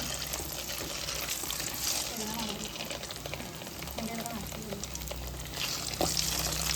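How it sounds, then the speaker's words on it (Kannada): Masala frying in hot oil for egg biryani, a steady crackling sizzle with bursts of popping, continuous and close, while someone talks over it. "ಸೊ ಈ ರೀತಿ ಹಿಂಗೆ ಬಾಯ್ಲ್ಡ್ ಆಗ್ಬೇಕು ಎಣ್ಣೆದಾಗ"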